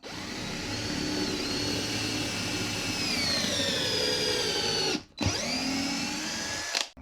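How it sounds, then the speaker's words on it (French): A power tool whirring steadily as it cuts a thread into a piece of wood, a loud continuous whine with shifting pitch that briefly cuts out twice near the end. "Je vais prendre ce morceau de bois, je vais y faire un filetage."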